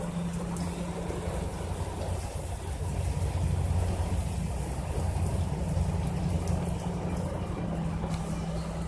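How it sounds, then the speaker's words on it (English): Rain falls outside on a boat on the water, a steady dense patter close by, with a low droning hum underneath throughout. "it's a little raining outside"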